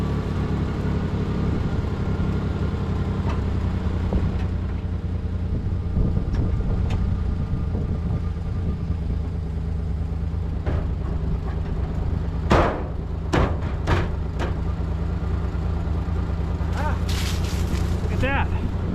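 A Ford Bronco II V6 idles steadily with the hood up, a low continuous engine rumble throughout, joined by a few sharp clanks and knocks near the end.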